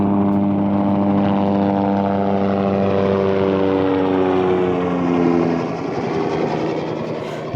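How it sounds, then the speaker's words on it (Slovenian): A helicopter passes overhead above long queues of lorries at the Fernetiči border crossing, a loud, steady rotor and engine drone with a humming tonal whine that holds, then shifts slightly as it moves on. "nas preletava helikopter"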